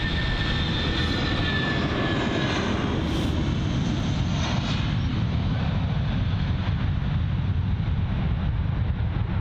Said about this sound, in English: But we'll focus on this departing aircraft.